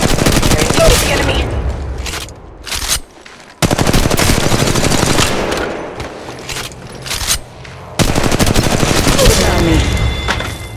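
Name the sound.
Mastiff shotgun gunfire, Apex Legends Mobile video game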